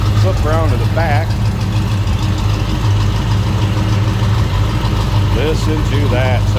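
A 1971 Pontiac Grand Prix SJ with its 455 V8 idles in a deep, steady rumble close by, as people talk briefly over it.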